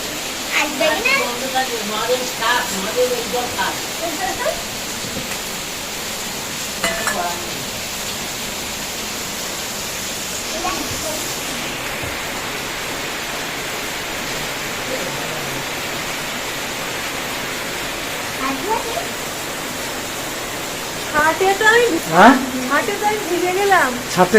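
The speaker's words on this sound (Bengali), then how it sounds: "কি মারাত্মক জমজম ঝমঝম ঝমঝম ঝমঝম কিরকম বৃষ্টিটা পড়ছে দেখো একবার" Heavy rain pours down in a steady, loud, unbroken hiss for a long stretch during an all-day downpour, with a voice talking over it at times.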